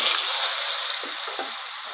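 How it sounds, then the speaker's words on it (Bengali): Thin-cut potato slices frying in hot oil, a loud, dense hiss of sizzling close by with faint stirring underneath. "এবার আলুগুলো আগে তেলের ওপর দিয়ে দেব।"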